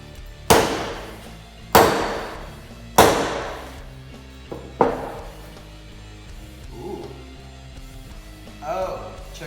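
Timber Rattler Scarab knife being whacked in a torture test: several loud, sharp thuds, the first few evenly spaced, followed by fainter knocks and light scraping handling noises.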